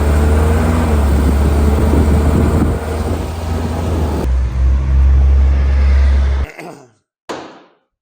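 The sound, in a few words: junkyard-built off-road car driving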